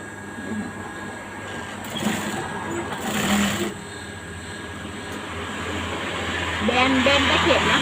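Sewing machine stitching along the original seam of Levi's jeans, a close mechanical hum with bursts of faster running, while someone talks over it.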